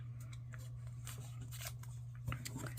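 Scissors snipping through paper while planning a fitness bullet journal, a run of quick, faint, close cuts and rustles over a low steady hum, with no talking.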